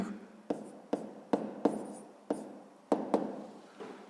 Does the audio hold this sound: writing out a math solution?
yes